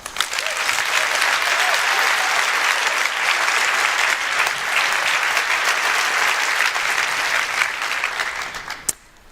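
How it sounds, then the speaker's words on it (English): Keynote audience at a sustainability conference applauding, a loud dense wash of clapping that holds steady for several seconds before tapering and cutting off. "One more round of applause for Bill Weihl."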